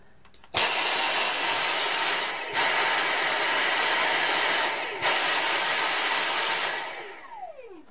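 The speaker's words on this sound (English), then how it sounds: "I'll just show you how it works. So first of all, you press your finger on the trigger here," A Dyson V6 Trigger handheld cordless vacuum cleaner runs in three close bursts of high-pitched whining motor noise, each switched on and off with brief dips between them, ending in a short spin-down, with no talk.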